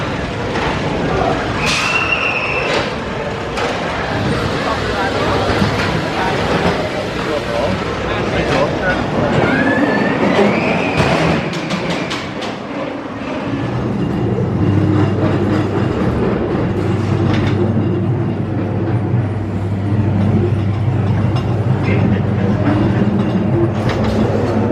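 Ghost Train ride cars at Blackpool Pleasure Beach roll and clatter along the track with a steady rumble, while people talk and call out over the ride noise.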